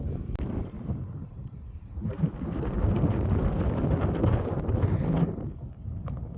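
Blustery wind buffets the microphone in low rumbling gusts, swelling stronger midway before easing off again.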